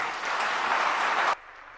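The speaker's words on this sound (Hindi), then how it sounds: "जरा तालियां बजा दीजिएगा" An audience at a Jain religious discourse claps together in a dense burst of applause that holds steady, then cuts off abruptly near the end, leaving a quiet room.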